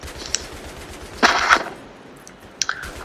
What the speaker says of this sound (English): I'm gonna be getting in my gun, laying down some suppressive fire for Ryan